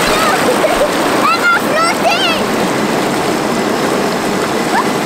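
Water in a bubbling jacuzzi churns and splashes with a continuous close fizzing hiss, while children's voices chatter and squeal over it.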